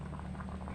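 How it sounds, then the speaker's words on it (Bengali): Drumstick curry (data chorchori) with mustard and nut paste simmering in a pan, a faint steady bubbling and sizzling hiss with soft irregular pops and no voices. "এই দেখো এখন একটু নাড়াই দেবো"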